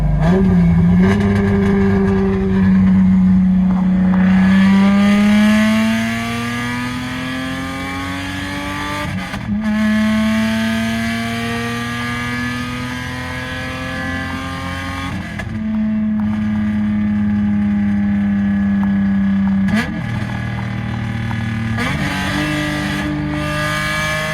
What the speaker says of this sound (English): enjoy this straight pipe pull for now, because it does sound fun